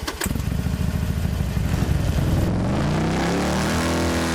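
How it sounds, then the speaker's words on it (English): A big motorcycle engine cranks briefly, then starts and settles into a loud, steady idle close by. "He then heard a motor crank,"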